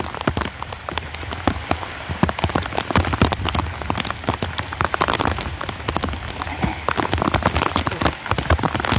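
Steady rain pours on a hillside, with countless close drops spattering hard on a surface in a continuous, loud crackling wash that never lets up.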